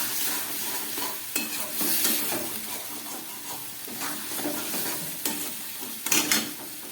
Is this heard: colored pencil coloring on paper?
no